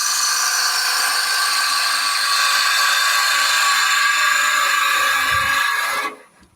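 Gouge bevel riding on wood spinning on a lathe during woodturning with Axminster tools, a steady close hissing cut that holds evenly for about six seconds before stopping abruptly.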